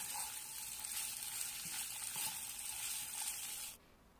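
Pasta and broccoli stirred together in a frying pan, giving a steady close sizzle with faint scraping that runs continuously and then stops abruptly near the end.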